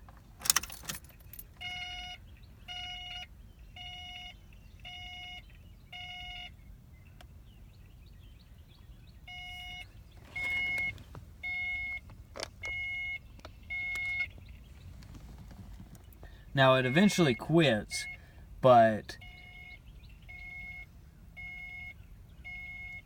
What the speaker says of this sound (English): it makes this loud beeping noise when I turn the ignition on or whenever I crank the car